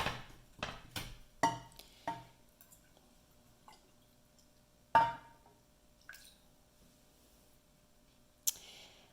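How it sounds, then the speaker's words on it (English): Red Ninnescah shale soil pigment slurry goes into a drying pan in a few quiet bursts: sharp drips and small splashes, some with a light clink, separated by near silence. "I'm going to go ahead and pour it into the pan so that it can be dried."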